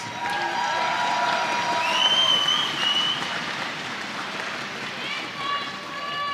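A crowd at an archery finals event claps steadily, a dense sustained patter of applause with some cheering that swells around the middle and then eases off slightly.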